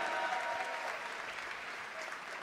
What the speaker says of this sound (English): Applaudissements une dernière fois, s'il vous plaît, pour cette équipe des FaZe